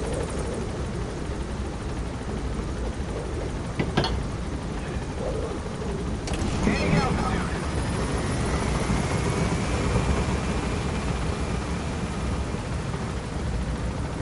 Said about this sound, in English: You should be used to helicopters by now, dude.